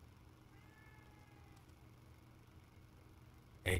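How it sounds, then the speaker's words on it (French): A cat meows in the horror video game The Evil Within 2, a faint drawn-out mew early on over low ambient hum, followed by a sudden loud burst at the very end. "C'est le chat."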